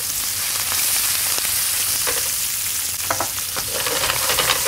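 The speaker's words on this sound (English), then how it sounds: "Just when you're cooking fish with the skin on, it just gives it a nice wee glow on it." Herring fillets with the skin on fry skin-side down in a pan with butter, giving a steady, loud, dense sizzle with occasional small pops and crackles throughout, no voices.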